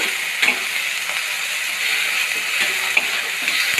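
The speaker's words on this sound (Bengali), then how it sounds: "এখানে আমি দিয়ে দিলাম টমেটোর কুচি আর আদা রসুনের পেস্ট এবার দিয়ে ভালো করে নাড়াচাড়া করে নেব" Chopped tomato and ginger-garlic paste sizzle in a pan with onion while being stirred, a steady bright hiss broken by occasional scraping clicks of the spoon, close and continuous with no voices.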